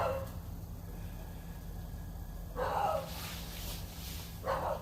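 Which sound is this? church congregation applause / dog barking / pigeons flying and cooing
dog barking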